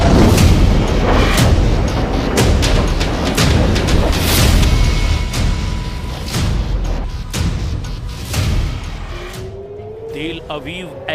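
Missile strike explosions in Tel Aviv, caught as news footage: a series of loud, heavy booms and rumbling blasts, repeated throughout with dense low roar between them, under voices.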